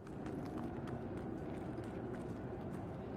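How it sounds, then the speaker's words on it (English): Footsteps crunch over broken glass in Rainbow Six Siege on the Equator map, a steady, dense stream of gritty, clattering steps heard alone with no talk over them. "Here's the crunch on glass as well"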